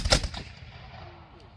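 A single flintlock musket volley fired on command at a historical reenactment, a loud sharp crack at the start followed by a fading rumbling echo.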